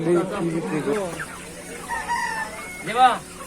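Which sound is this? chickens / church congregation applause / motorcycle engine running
chickens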